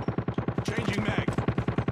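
Rapid automatic gunfire from the COD Mobile video game, a fast even burst of about twenty shots over two seconds, fairly close and unbroken.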